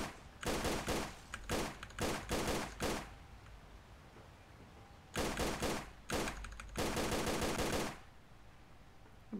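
Rapid automatic gunfire sounds in Tomb Raider: The Angel of Darkness, coming as several loud, close bursts of repeated shots separated by short pauses.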